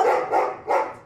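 Dogs rescued from a hoarding home bark in three loud, close, sharp bursts in quick succession, with no voices present.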